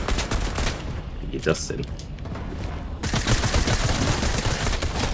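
Pistol fire in the Fortnite video game rattles out in a dense, steady stream of rapid shots, loud and continuous, while someone talks over the game.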